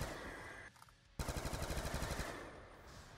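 The Lamentation gun fires in Black Ops 2 zombies, a rapid automatic burst of about a dozen loud, close shots after a short lull, trailing off into game ambience.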